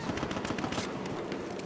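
Rapid bursts of automatic gunfire in the video game Battlefield 1, dense crackling shots close up in quick succession without pause.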